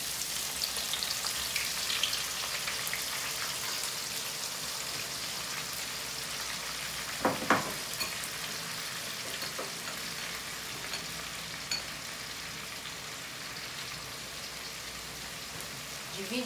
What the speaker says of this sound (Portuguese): Vamos começar fritando a cebola. O óleo tá bem quente.